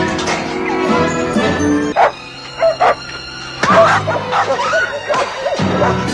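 A dog barks and yips in a movie scene, with several sharp bursts standing out against a music and sound-effects bed, fairly close and loud.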